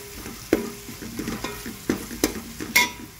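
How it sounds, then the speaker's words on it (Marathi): Veg pulao with mint being sautéed in a pan, a spatula scraping and stirring in several sharp strokes over a low, steady sizzle, close and moderately loud, with no talking. "आता हे चांगलं परतून घ्यायचं"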